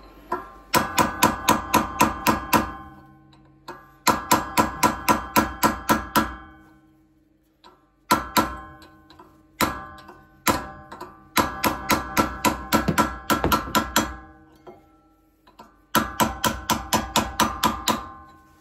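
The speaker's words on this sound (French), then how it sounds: "petit marteau burin pour défaire le cache ici là" A small hammer strikes a chisel against a brake hub cap on a Renault Scénic 4 rear wheel: loud, close metallic blows in rapid bursts of about eight to ten hits, separated by short pauses.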